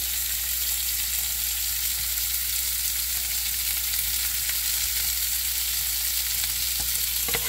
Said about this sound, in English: So you're going to fry them in a little bit of olive oil